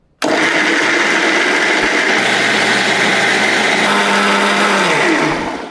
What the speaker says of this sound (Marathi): त्यातलं जे पाणी आहे त्यात हा मसाला छान दळला जातो किंवा वाटला जातो